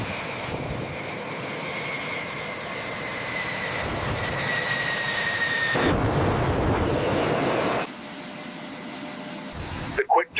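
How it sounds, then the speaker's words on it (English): A US F-16 fighter jet taxis across a sunny tarmac with a steady, rushing engine roar and a whining tone that shifts in pitch. The roar cuts off abruptly near the end. "The power of the aircraft is truly palpable, even in its slow, deliberate taxiing speed across the sun-drenched tarmac."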